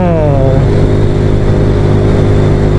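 A small motorcycle with a Lagenda 57 spec engine rides along a rural village road, its engine droning steadily and loudly close up, with a brief rising rev at the start.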